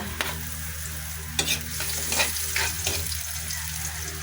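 Garlic and ginger frying in a pan for a coconut-milk fish dish, a steady soft sizzle with a few sharp stirring scrapes standing out over a low background hum.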